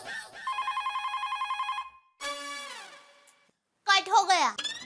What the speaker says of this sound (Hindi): भिड़े का ही फोन होगा